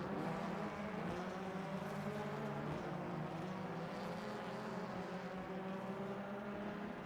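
Racing cars lapping the Donington Park GP circuit during a touring car race, a continuous dense engine drone that stays loud and steady throughout with no break and no talking over it.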